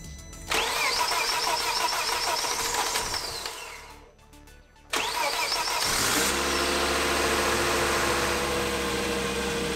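A Volvo XC90 engine cranks and catches, settles into a steady idle, briefly cuts out, then restarts with a sharp rise and idles on at a loud, even drone.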